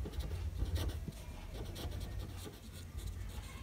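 Marker or chalk writing on a board during an accounts lecture, a close, steady run of scratchy strokes and taps with no talking.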